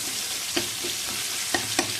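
Garlic frying in a pan while being stirred, a close, steady hiss of sizzling oil with a few brief spoon scrapes and taps, no voices.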